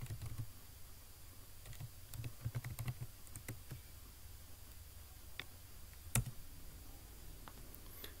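Typing on a computer keyboard while entering a search in Microsoft Word 365, heard as sparse, faint key clicks in small irregular bursts over quiet room noise, with one sharper click near the end.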